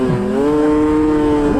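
An SKS mountain snowmobile engine revs hard toward 10,000 RPM, a loud, close, sustained buzzing drone whose pitch dips briefly and then climbs and holds high, with no voices over it.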